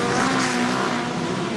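Hot rod race cars on a wet, slippery Wimbledon track in 1977 make a loud, continuous engine roar that holds throughout, with no voices over it.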